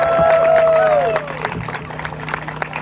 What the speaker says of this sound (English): Can we get a huge round of applause for Jennifer Lima